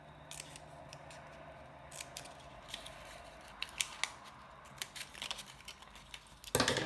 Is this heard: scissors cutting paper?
yes